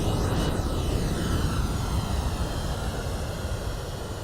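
An MD-11 airliner rolling down the runway after landing in a flight simulator, with a steady loud rumble and engine roar and the nose wheel bouncing, constant throughout without any talk.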